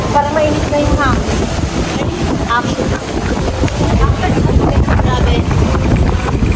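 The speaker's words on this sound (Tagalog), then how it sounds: "Parang mainit na yung hangin." Warm wind gusts steadily outdoors in Bali, buffeting the microphone with a constant loud rumble while people talk over it.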